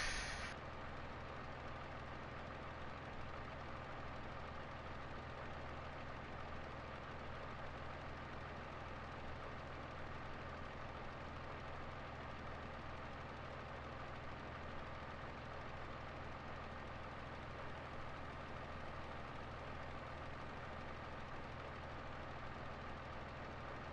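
An antique tractor engine running on a farm, a steady low droning idle that stays constant and moderately loud from start to finish, with no voices.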